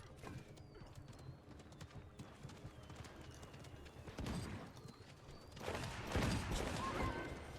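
Hooves of a horse mount in the video game Paladins clip-clop faintly and steadily, with a neigh amid game effects and scattered gunfire, growing louder toward the end.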